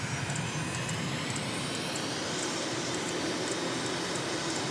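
An MB-339 jet engine runs at full throttle in Microsoft Flight Simulator, a loud, steady, broadband roar with a faint high whine on top and no change across the stretch.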